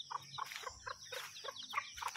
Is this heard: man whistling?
no